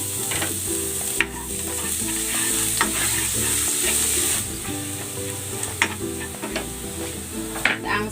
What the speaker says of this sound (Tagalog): Igigisa ko na tong bawang.